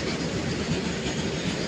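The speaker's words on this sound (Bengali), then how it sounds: "ওরে পাশ থেকে ট্রেন যাচ্ছে দেখো" A train rolls past close alongside at night on the road between Purulia and Kolkata, a steady loud rumble with a rhythmic clatter of wagon wheels on the rails and no voices.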